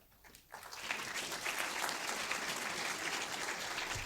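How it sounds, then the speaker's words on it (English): Festival audience at a film masterclass applauding Gaspar Noé, a dense wash of clapping that swells in after a brief pause and holds steady, moderately distant. "He's had his round of applause, so that's that."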